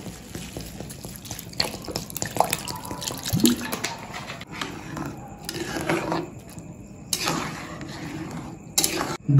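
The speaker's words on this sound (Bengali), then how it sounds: "দুধ দেওয়ার পরে একটু জল দিয়ে দেবো।" Water is poured into a pot already holding milk for chicken pulao, giving an uneven splashing trickle with drips and a few sharper clinks, close and moderately loud, with no voices.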